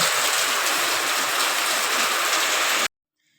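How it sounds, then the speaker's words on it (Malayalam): Heavy rain with wind pours in a loud, unbroken roar, then cuts off abruptly near the end. "കാറ്റും മഴയൊക്കെയാണ്."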